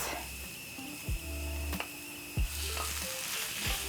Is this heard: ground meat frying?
yes